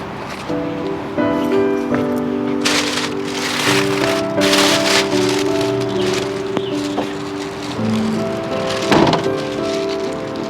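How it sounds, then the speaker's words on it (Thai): Steady rain pours down outdoors, a dense close hiss of falling drops alongside tonal background sounds, with no speech. "ฝนครับ"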